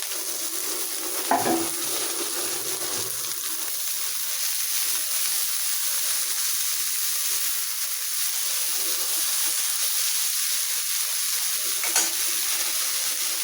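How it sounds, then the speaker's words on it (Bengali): Red spinach hits hot oil with fried garlic, onion and black cumin, giving a steady close sizzle that runs the whole way, with a couple of brief utensil knocks near the start and later. "রসুন পেঁয়াজ আর সাথে কালো জিরা ভেজে নিয়েছি, এখন এই যে লাল শাক দিয়ে দিলাম"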